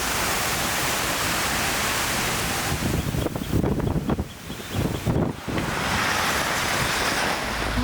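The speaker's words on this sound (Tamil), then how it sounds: "சீனாவின் கிழக்கு கடலோர பகுதிகளை பலத்த காற்று மற்றும் கனமழையுடன் டால்பின் சூறாவளி தாக்கியது" Typhoon Dolphin lashing China's east coast with strong wind and heavy rain, a loud, dense roar of wind and downpour that rushes on without a break, buffeting hard for a few seconds in the middle.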